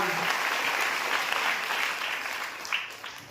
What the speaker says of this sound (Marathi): टाळ्या ताकदीनं स्वागत करूया